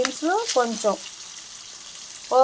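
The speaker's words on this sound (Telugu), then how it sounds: "ఇప్పుడు దీంట్లోకి మనం కొంచెం పోపు దినుసులు వేసుకున్నాం" Tempering spices (chana dal, urad dal, mustard seeds and cumin) sizzle gently in oil with softening onions, a soft continuous hiss under brief talk at the start and end.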